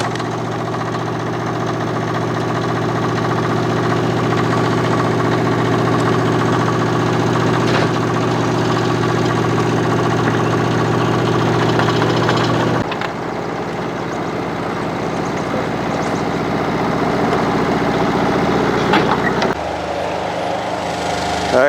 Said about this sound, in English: So excavator, way easier. All right, let's get her started.